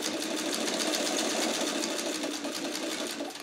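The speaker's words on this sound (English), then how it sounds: "I just want to sew like a quarter of an inch or a little bit more past that, this line here on either side." Sewing machine running steadily while stitching a small paper-pieced Churn Dash quilt block, a continuous close whirring hum with a fast rhythmic needle chatter and no pauses.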